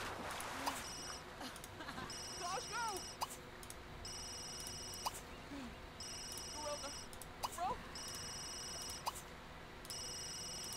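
A phone in the video game The Sims 3 rings in repeated regular bursts throughout, under a player talking and bleating animal-like game sounds.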